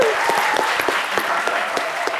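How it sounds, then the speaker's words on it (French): A studio audience on a French television game show claps hard after a correct answer, brisk clapping with a few sharp individual claps standing out and a faint voice underneath. "Très bonne réponse, on applaudit bien fort."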